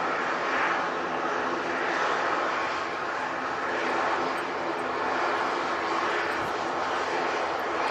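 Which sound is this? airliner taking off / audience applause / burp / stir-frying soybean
airliner taking off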